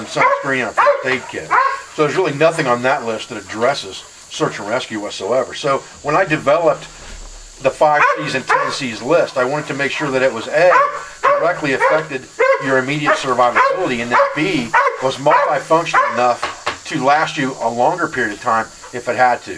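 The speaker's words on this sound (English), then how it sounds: "I apologize about the one dog barking at the 2 that are playing" Someone talks steadily while a dog somewhere nearby barks at two other dogs playing, giving short, intermittent yaps beneath his speech.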